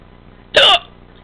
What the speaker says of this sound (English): Those are my hiccups.